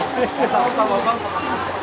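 Heavy rain pours in a dense, continuous hiss around a campervan during flooding, loud and unbroken throughout.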